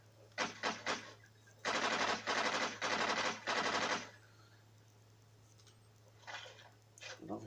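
Automatic rifle fire in Call of Duty: Modern Warfare 2, aimed down the sights: a few quick shots, then three sustained bursts of rapid gunfire, loud and sharp, with a couple of softer shots trailing after.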